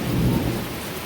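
A deep rumble of thunder rolls under steady night rain during a lightning storm, swelling briefly then fading into the downpour.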